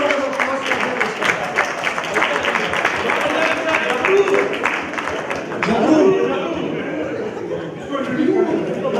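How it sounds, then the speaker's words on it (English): A campus reunion audience applauds to welcome Ajay Mishra, steady crowd clapping with murmured chatter and a few laughs mixed in, easing slightly toward the end. "Please extend a great round of applause to Ajay Mishra."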